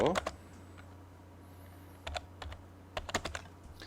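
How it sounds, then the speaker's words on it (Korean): Keyboard keys clack in short clusters of quick taps separated by pauses, close and fairly quiet. "그리고 다시 C를 입력하고 엔터 클릭"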